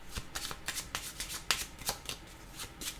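Tarot cards being shuffled to draw another card, a quick run of crisp riffling flutters and soft slaps repeating at a steady rhythm, close and fairly quiet, with no talking.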